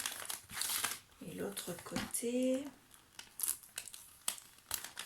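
Gift wrapping paper sealed with reinforced tape crinkles and rips as it is pulled open, in short bursts of rustling and tearing while someone speaks quietly in French.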